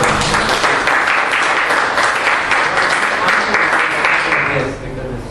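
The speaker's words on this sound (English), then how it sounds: "I think a big round of applause." Loud, dense clapping from a breakfast business-talk audience fills the room, holding steady before tapering off at the end, with some voices mixed underneath.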